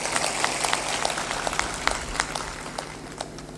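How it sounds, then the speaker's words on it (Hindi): Audience at a satsang gathering clapping, a thin, uneven patter of individual claps with distinct sharp hits scattered across the whole stretch, moderately near and not very loud. "थोड़ा मुस्करा दो और ताली बजा दो"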